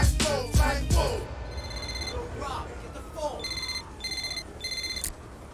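A telephone rings in repeated electronic bursts in a music video, loud and close, following a stretch of rap vocals and music at the start.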